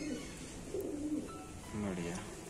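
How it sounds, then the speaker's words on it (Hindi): Pigeons cooing, old-lineage Jamni Kalsira pigeons with deep purple feet: low, throaty warbling coos repeat at close range over a steady background hum, with voices in the background. "वैसे सभी कबूतर बहुत खूबसूरत है।"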